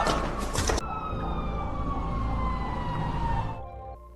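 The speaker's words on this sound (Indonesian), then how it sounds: "suara sirine polisi terdengar" A police siren wails continuously, fairly close and loud, with a short burst of broadband noise at the start before the siren fades slightly at the end.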